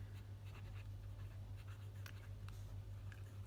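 A TWSBI fountain pen with a stub nib scratches faintly across journal paper in short strokes over a low steady hum.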